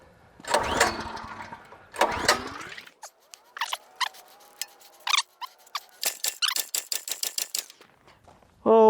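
A Harbor Freight plate compactor's small engine is pulled repeatedly by its recoil starter, giving several loud ratcheting pulls that sputter briefly without catching, with a short cough at the end, close and mostly alone.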